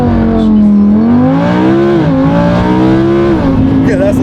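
A straight-piped barn find Ferrari roars through a launch control start, the loud engine note climbing steadily and dipping briefly at each upshift, close and continuous.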